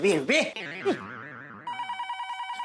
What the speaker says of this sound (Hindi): दया सुंदर का फोन है तो मुझे दे।